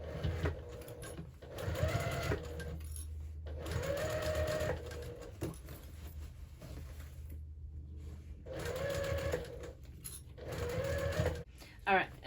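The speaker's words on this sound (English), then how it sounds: "I'm just gonna start sewing over here at 1/4 inch and just come right on across" A sewing machine stitches across a hobo bag in bursts, its rapid mechanical hum starting and stopping several times, with someone talking in between runs.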